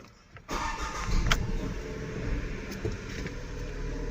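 A Tata Nexon XMS car engine starts after a brief quiet moment, catching abruptly and settling into a steady, fairly loud idle hum from close by.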